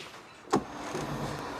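An electric seat motor in a 1987 Porsche 911 whirs quietly inside the cabin, a soft continuous motor hum that follows a brief click, with no talk.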